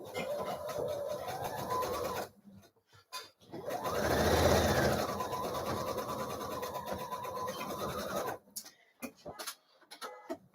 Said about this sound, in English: let me get this other shoulder seam sewn